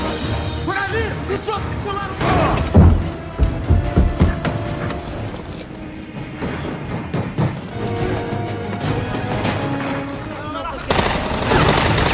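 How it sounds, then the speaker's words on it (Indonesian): Rapid bursts of gunfire and booming shots crackle over a dense, loud action film soundtrack, with a heavy volley near the start and steady shooting throughout. "Dom menyelamatkan Elena dari tembakan anak buah Reyes."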